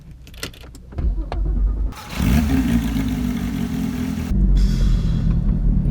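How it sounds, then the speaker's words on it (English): A Porsche GT3 fitted with a Sharkworks exhaust, effectively a rear muffler delete with the side mufflers kept, cranks and fires up: a brief starter whir, then a loud, close engine catching and settling into a steady, deep idle rumble. "Let's get an exhaust clip of this."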